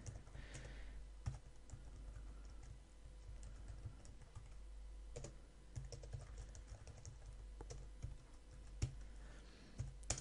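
Someone types code on a computer keyboard, producing a quiet, steady run of soft keystrokes with occasional sharper clicks over a low background hum and no talking.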